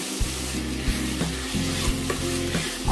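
Minced pork and chili paste stir-fry in a hot pan, giving a steady loud sizzle broken by regular scraping strokes of a spatula, with no talking.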